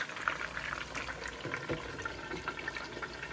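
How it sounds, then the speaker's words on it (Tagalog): Fish frying in hot oil in a home kitchen, a steady soft crackling hiss with small irregular pops, fairly quiet and continuous with no talk. "magpiprito na muna ako ng isda"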